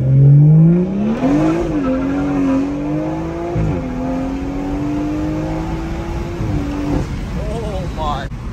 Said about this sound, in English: here's a first gear pull. I'll probably just spin, but here goes nothing